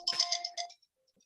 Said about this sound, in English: we don't need my phone ringing here